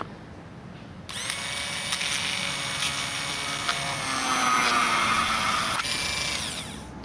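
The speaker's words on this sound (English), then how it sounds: "So I'll just drill those holes here." A power drill whines loud and steady for about five seconds as its bit bores holes through a Traxxas RC car chassis, starting abruptly after a quiet moment and then cutting off.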